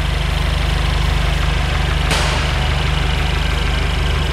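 Mercedes-Benz C-Class W205 C200 AMG Line engine idling with the hood open, a steady, close, even rumble with a regular low pulse and a brief click partway through, no voices.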